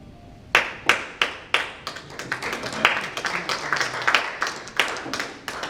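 Clapping from an audience at a lecture on Korean national defense and the security environment, heard as sparse, uneven claps that build into a loose patter and then thin out.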